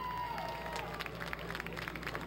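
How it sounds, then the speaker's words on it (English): A crowd at Lake Geneva Raceway applauds during a Hoss Outlaw sprint car event, a steady spatter of clapping under a continuous low hum of distant engines and tones. "let's give him a big round of applause"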